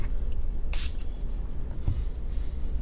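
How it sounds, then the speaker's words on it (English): Milani Make It Last setting spray releases two brief, fine misting hisses, one early and one at the very end, over a steady noisy background. "another setting spray I want to mention is the Milani Make It Last setting spray"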